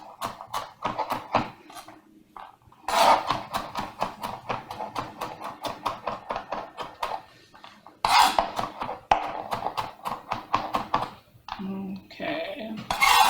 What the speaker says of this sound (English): let me go ahead start chopping up garlic cloves